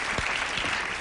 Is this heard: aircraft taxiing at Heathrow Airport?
no